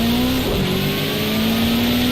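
A Formula X race car engine in a racing video game drones loudly and steadily, its pitch rising as the car accelerates and then holding at a constant revving tone.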